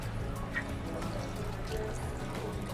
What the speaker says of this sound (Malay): ini kita tuang air